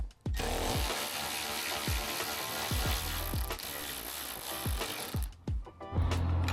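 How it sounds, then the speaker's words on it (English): A right-angle ratchet works on a turbocharged 9th-generation Honda Civic during a lighting and fog-light install, giving a close, continuous clicking whir broken by several sharp knocks and pauses. "I picked up this new right angle ratchet the other day."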